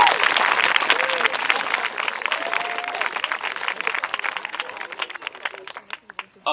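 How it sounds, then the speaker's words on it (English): Audience applause after a high school pops concert, a dense burst of clapping that starts full and thins to scattered claps, with voices mixed in. "can we get a round of applause for everyone that performed today?"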